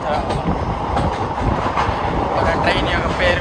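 The Tungabhadra Express (17023), running from Secunderabad to Kurnool, rolls along with a dense, continuous roar and faint rhythmic clatter of wheels, steady and close throughout.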